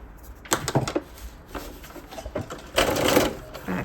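A sewing machine stitches a seam on a pleated skirt, running in short loud bursts of rapid mechanical clatter, then one longer burst near the end, with a voice speaking between them.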